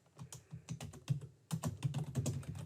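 Rapid, uneven key clatter from a computer keyboard, with close, crisp keystrokes arriving in bursts, a brief pause midway, then denser typing resuming. No voices.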